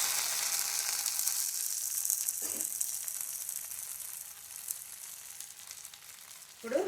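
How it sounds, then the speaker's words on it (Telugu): Mango pieces sizzle steadily in hot oil tempering in a pan, a close, continuous frying hiss with a couple of brief stirring scrapes. "తాలింపులో వేగినాయండి."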